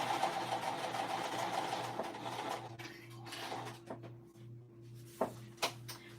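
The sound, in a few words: sewing machine base stitching a crossbody bag with cork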